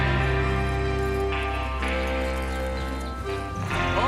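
Horses move out in a Red Dead Redemption 2 scene, with hoof clip-clop and neighing over a loud, dense orchestral bed that carries through to the end.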